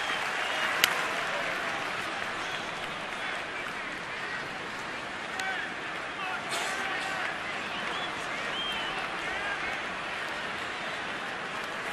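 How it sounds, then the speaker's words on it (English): A baseball stadium crowd at a Detroit at Washington game makes steady, sustained noise in the top of the seventh inning, cheering for the final out, with a broad wash of clapping and chatter and one brief sharp accent early on. "Crowd making some noise to get the final out here in the top of the 7th inning."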